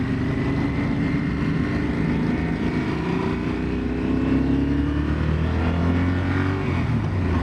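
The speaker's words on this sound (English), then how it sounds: "Just the CP2 engine, it just it tickles just the right amount in legal speeds." Motorcycle with a CP2 parallel-twin engine being ridden, a steady loud engine drone with slowly rising pitch as it pulls through the gears, mixed with rushing wind noise throughout.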